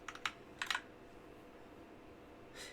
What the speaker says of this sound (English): Hit Control V for me.